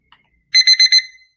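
An alarm clock rings alone in four quick, evenly spaced bursts of bright electronic beeping, loud and close, with a short fading tail after the last burst.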